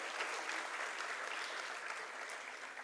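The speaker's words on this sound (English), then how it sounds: "Loud applause, please, everyone." Sustained applause from the audience at a school annual showcase, dense and steady for the whole stretch, fairly loud and even with no voices on top.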